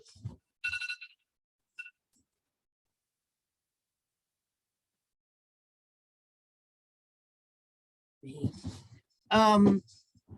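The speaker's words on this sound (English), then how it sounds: "Oh, excuse me, that's my phone." A mobile phone rings in short electronic bursts, a brief chirp near the start and a louder trilling ring near the end, separated by long silence, close to the microphone.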